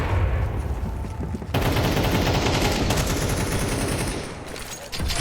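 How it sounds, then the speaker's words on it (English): Dense automatic gunfire and overlapping shots fill a Counter-Strike match in the IEM Cologne 2024 grand final between NaVi and Vitality, loud and continuous with a brief dip partway through. "Mezzi leg shot. A limp for the Brit."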